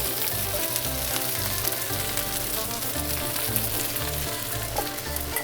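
Apple slices sauté alongside golden-browned Brussels sprouts in a hot pan, giving a loud, steady sizzle and frying crackle throughout with no talking.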